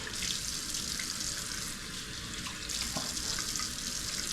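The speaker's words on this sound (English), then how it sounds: "let me rinse this off real quick." A razor is rinsed under a running bathroom tap, a steady close hiss of flowing water with faint clinks as it is held in the stream.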